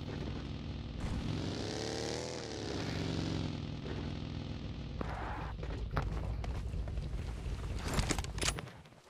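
A boat engine in the mobile battle-royale game PUBG Mobile, a steady droning motor whose pitch swells and then settles, followed by scattered clicks and short bursts near the end, with no talk.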